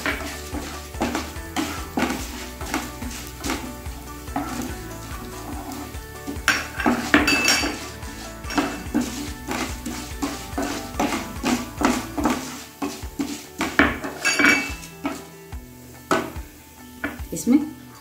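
Chana dal and urad dal roasting in a pan for dosa gun powder, stirred with a metal spoon: repeated clinks and scrapes against the pan over a low dry rustle, close and busy throughout.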